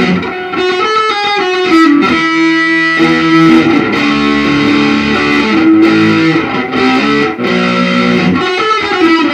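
Heavily distorted electric guitar plays a riff, a loud, continuous stream of chugging, sustained notes with brief dips between phrases, played alone without voices.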